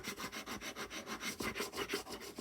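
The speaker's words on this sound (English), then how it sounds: "Just go across with your bone folder." A bone folder is rubbed back and forth across paper while crafting a Halloween decoration, giving steady rhythmic scraping strokes, close and fairly soft, with no talking.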